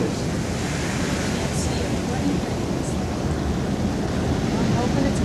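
Winter storm surf pounds the shore and breaks over seaside houses, a continuous heavy roar of waves with wind buffeting the microphone, loud and unbroken from start to finish.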